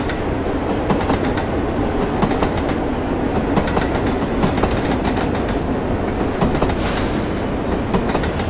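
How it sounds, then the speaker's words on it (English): Loud, steady rumble of a Class 31 diesel train moving in Train Simulator 2016, with rhythmic wheel clatter on the rails and a brief squeal near the end, no voices. "Got a train moving."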